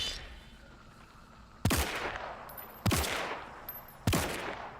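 Three heavy, widely spaced gunshots boom in a video game, each one sharp and loud with a long echoing tail fading over quieter ambient noise.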